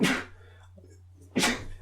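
Two sharp, breathy bursts, one at the start and one near the end, each sounding like a close sneeze, with a quiet hum between.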